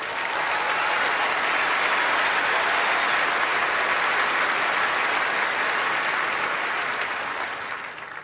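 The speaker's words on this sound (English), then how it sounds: "I'm sure they're all applauding your victory today" A large tennis crowd at the 2008 Australian Open women's final applauds the winner, a loud, dense, unbroken wash of clapping that holds steady for several seconds before starting to fade.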